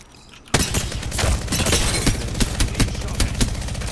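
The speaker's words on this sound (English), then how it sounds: "Firing a smart bullet." Rapid bursts of ballistic gunfire in a first-person shooter game, loud, dense and continuous after a sudden start, with overlapping shots and impacts.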